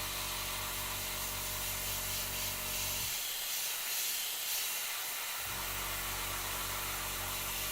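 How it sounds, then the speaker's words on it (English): Close, loud air blowing from an air tool to dry thin coats of paint on miniatures, steady throughout. The lower rumble briefly drops out midway while the high hiss carries on, and no one talks. "I'm just blowing air, right, to dry it."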